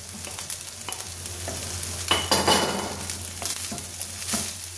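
Scrambled egg is stirred into sizzling vegetable fried rice, with close scraping strokes and a steady fry hiss that swells briefly midway, with no one talking.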